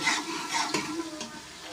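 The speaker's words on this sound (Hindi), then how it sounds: "इसमें हम लहसुन अदरक का पेस्ट डाल देंगे" Garlic and ginger paste sizzles steadily in hot oil with browned onions while being stirred for a chana dal, a continuous close hiss with light scraping.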